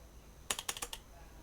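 A quick burst of about five crisp keystrokes clacks on a computer keyboard, close and quiet, with silence before and after.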